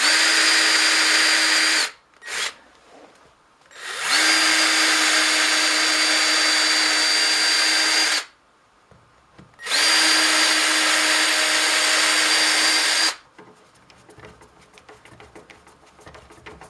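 A DIY router table lift driven by a modified jack, running under a milling table in loud sustained bursts of high-pitched motor whine, three long runs separated by short pauses, then quieter mechanical rattling.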